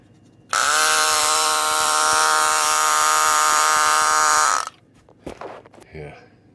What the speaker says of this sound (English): I turn the switch on and the lights and everything, and the motor comes on too